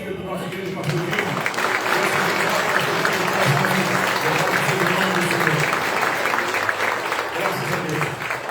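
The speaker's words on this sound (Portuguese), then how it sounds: "Aplaudando ao Senhor Jesus pela vida do nosso querido pastor Gil." A church congregation applauds at length, a dense, steady wash of clapping from many hands filling the room, with a voice speaking over it.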